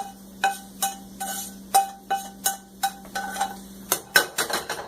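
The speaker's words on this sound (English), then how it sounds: "take our ground beef, scoop it all in" Cooked ground beef is scooped into a pot of pasta with a metal utensil, giving a run of evenly spaced sharp clinks and scrapes, close and fairly loud, over a low steady hum.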